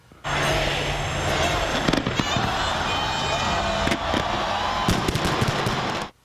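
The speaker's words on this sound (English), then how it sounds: "In London, fireworks erupting over the London Eye" New Year fireworks burst over the London Eye on the south bank of the River Thames, a dense, loud, continuous crackle of rapid explosions with sharper bangs scattered throughout, cutting off abruptly.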